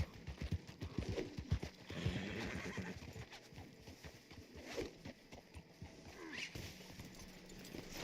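Horse hooves clip-clop along with a neigh from a horse in the Red Dead Online game, the steps continuing steadily over a busy background with a second whinny later on.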